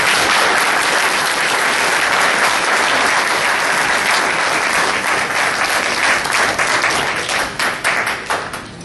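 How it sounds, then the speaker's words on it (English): Loud, dense audience applause fills a police awards ceremony, a sustained wash of many hands clapping that starts full and thins toward the end as individual claps become audible. "So I'd like to give Tom a big round of applause."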